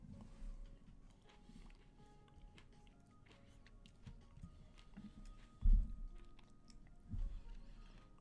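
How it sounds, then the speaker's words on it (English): Someone chews food close to the microphone, soft irregular mouth and crunch sounds running through the whole stretch, with two louder bites near the end. "can you guys hear me chew?"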